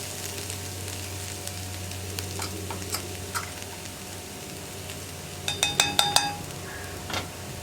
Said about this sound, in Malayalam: ഈ ചില്ലി ഫ്ലേക്സും കൂടി ഒന്ന് കുക്കായി വരട്ടെ.